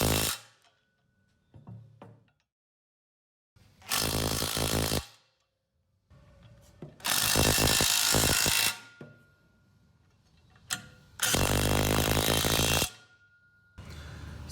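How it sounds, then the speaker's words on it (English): A ratchet or power tool tightens axle bearing retainer nuts in several loud, separate bursts of mechanical whirring, with quiet gaps and small clicks between them. "tightening these nuts, I'm going to go corner to corner on these nuts as if you were torquing a wheel"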